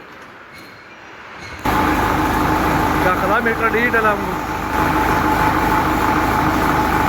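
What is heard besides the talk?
tractor engine running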